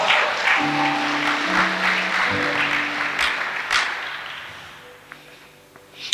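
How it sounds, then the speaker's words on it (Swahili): A church congregation applauds for Jesus at a sermon on cleanliness and holiness, a broad wash of clapping that fades gradually over several seconds, with a sustained musical tone beneath and a few sharper claps near the end. "Mpigie Yesu makofi."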